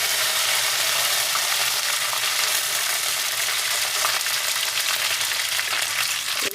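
Mustard seeds and curry leaves frying in hot oil for a cherry pickle, giving a loud, steady broadband sizzle with faint popping crackles, close up and with no talking.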